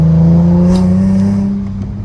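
A Nissan 370Z Nismo with a cat-back exhaust revs loudly and close, a smooth droning tone that falls away toward the end, with no clear rattle standing out.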